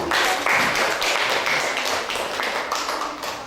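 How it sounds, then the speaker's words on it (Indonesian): A classroom audience claps for a student group after their presentation, a dense, steady burst of applause lasting several seconds that stays loud throughout and begins to thin toward the end. "Kita berikan dulu tepuk tangan yuk."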